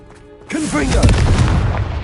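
A Confringo fire spell explodes in the video game Hogwarts Legacy: a loud, booming burst of fire hits after a short quiet lead-in and keeps roaring, with a voice speaking over the blast.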